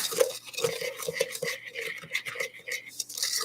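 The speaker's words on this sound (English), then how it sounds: "and more cocoa powder. Okay, just like so. We're going to stir that around." A spoon stirring a dry mix of sugar and cocoa powder in a bowl for chocolate lava cake, giving a steady run of close scraping and clinking strokes with no talk.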